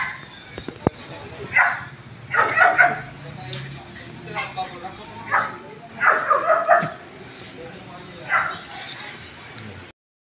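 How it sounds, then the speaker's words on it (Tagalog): A dog barks in short bursts, several times across the stretch, fairly close, with some yips between barks. "Ang ibang aso to eh. Kaiba yung tahol."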